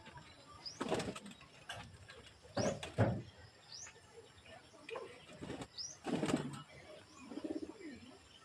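Pigeons coo softly in a loft, with several separate low throaty bursts and what may be wing flaps, faint and close, spaced irregularly against a quiet background.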